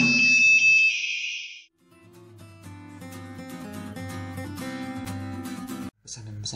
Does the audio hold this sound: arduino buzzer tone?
yes